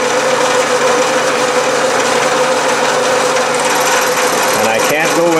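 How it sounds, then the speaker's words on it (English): A metalworking machine mills a 5 degree angle on the side of a tool, close to the vise, producing a steady, loud, continuous grinding whine with a sustained tonal hum that holds throughout. "And now I'm milling a 5 degree angle"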